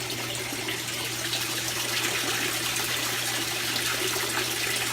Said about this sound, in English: I'm going to lower the water level a little more.